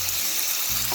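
Peppers cooking in a pan for egg stew give off a steady, close hiss of sizzling and frying that stays even from start to finish.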